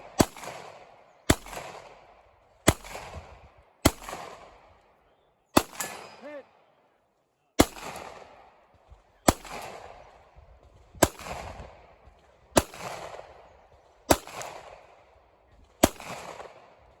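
Pistol shots ring out at IPSC targets during a woodland shooting competition, a dozen sharp cracks spaced at fairly even intervals of about one to two seconds, each decaying quickly into outdoor ambience.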